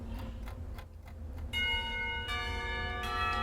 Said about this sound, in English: The bell rings for lunch break, startling me back into reality.